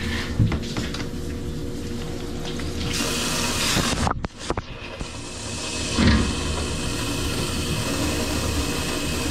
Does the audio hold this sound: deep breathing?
no